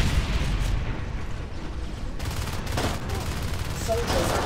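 Sustained automatic gunfire from a Natural Selection 2 match, a dense continuous rattle of shots running throughout with some mechanical clatter layered in, loud and close.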